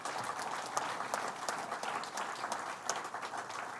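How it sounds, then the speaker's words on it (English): Audience applause at an announcement about the Watkins Glen International racetrack, a sustained crowd of clapping hands at steady moderate volume, alone without speech. "Let's give him a big round of applause."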